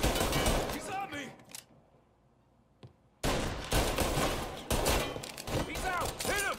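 Bursts of gunfire in Mafia: Definitive Edition, rapid volleys of shots in a close firefight with excited shouting voices between them, a brief lull midway before the shooting resumes loudly.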